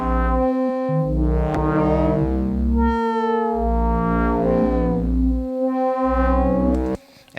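Modular synthesizer voices weave irregular ascending and descending melodic lines together, loud and steady with bright harmonic tones that swell and fall, cutting off abruptly near the end.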